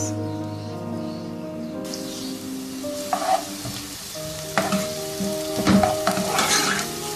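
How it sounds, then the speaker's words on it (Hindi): A medium onion sautéing in two tablespoons of oil in a frying pan over medium heat crackles with a steady close sizzle, joined by occasional scraping stirs. "प्याज को सिर्फ इतनी देर तक सौटे करना है कि ये अपनी रंगत थोड़ी सी तब्दील कर ले।"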